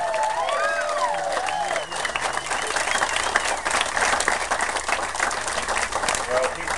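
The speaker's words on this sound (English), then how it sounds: "Let's really give him a round of applause." A crowd at a home-building event applauds and cheers, dense clapping with whoops and shouted voices mixed in, continuing steadily at close range.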